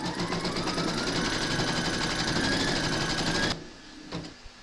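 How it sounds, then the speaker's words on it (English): An embroidery machine stitches a placement outline in the hoop for an in-the-hoop scarecrow applique, a fast, even mechanical whirring that stops abruptly near the end, leaving faint handling noises. "pop your hoop into your machine and stitch round number 1"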